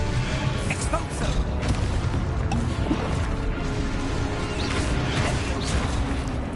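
An explosion spell cast in a PS4 wizarding video game sets off a continuous rumble of booms and crashing impacts, dense and loud, with faint scattered clanks throughout.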